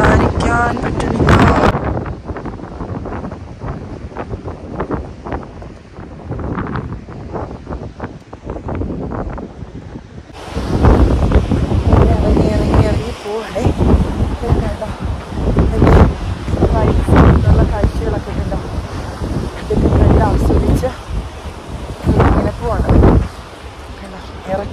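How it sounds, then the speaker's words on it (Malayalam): Strong wind on the Everest Base Camp trek roars and buffets the microphone in loud, continuous gusts, with a person speaking over it. "ഭയങ്കര കാറ്റ്,"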